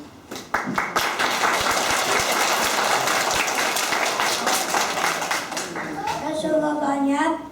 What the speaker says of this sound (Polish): Mili Państwo, posłuchajcie, oklaskami nagradzajcie